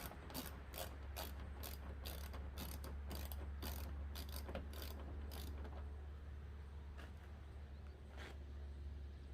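A ratchet with a 10mm socket removes bolts during a cabin air filter change on a 2015 Ford Escape, giving rapid bursts of close clicking for several seconds, then a few sparse clicks, with no talk.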